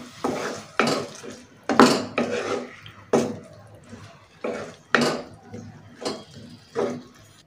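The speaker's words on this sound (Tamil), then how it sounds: "இது எல்லாத்தையுமே நல்லா ஒரு மிக்ஸ் பண்ணி விட்டுக்கோங்க." A spoon stirs and scrapes through mushroom masala in a metal cooking pan, giving irregular clinks and knocks roughly every second, close and clear, with no talking.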